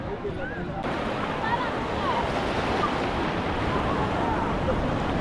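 Sea waves wash onto the shore at Tiruchendur in a steady, dense roar with wind buffeting the microphone, and people talk faintly beneath the surf.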